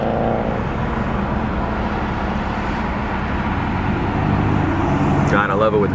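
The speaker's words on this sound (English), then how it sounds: "there's always traffic around here" Road traffic heard from inside a 2002 Pontiac Firebird Formula with T-tops, a continuous engine and tyre rumble with surrounding cars, a rising pass near the end, and people talking over it.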